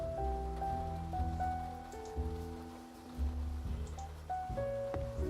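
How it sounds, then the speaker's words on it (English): Steady rain from the video game Face Noir falls as a constant soft hiss, with sustained musical tones playing over it throughout. "It's been raining for days."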